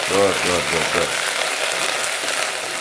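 Mustard seeds, red chili and curry leaves frying in hot oil, a close, bright crackling sizzle that flares with a few sharp pops at first and then settles into a steady hiss.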